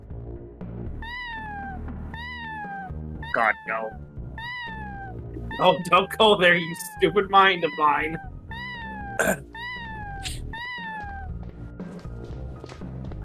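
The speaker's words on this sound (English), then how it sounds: "That cat's just there to meow and be cute." A cat in the video game Plumbers Don't Wear Ties meows repeatedly in a steady rhythm of short, clear calls, while someone talks and laughs over several of them.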